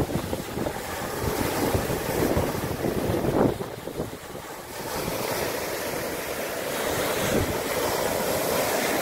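Waves breaking on the Lake Superior shore on a chilly day, a steady rushing wash of surf with repeated swells and gusts of wind buffeting the microphone, no voices.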